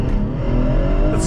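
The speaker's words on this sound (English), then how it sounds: "Let's go do some 0 to 60 tests now" A 2017 BMW 440i Coupe accelerating hard from a standstill during a 0 to 60 run, a loud, steady engine roar with whirring, heard close from inside the car.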